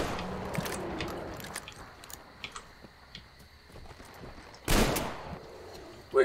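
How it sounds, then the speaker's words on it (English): A single loud, close shotgun blast in the post-apocalyptic shooter Metro Exodus rises out of quiet clicks and rustling, with a second sharp hit cut off at the very end. "Should we try the shotgun?"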